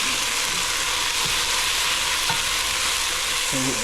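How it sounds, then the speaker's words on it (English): Steady sizzling of risotto rice toasting in a hot pan with chicken stock added, occasional scraping as a spoon stirs, continuous frying noise throughout. "as it toasts, and as you stir it, your rice absorbs that chicken stock"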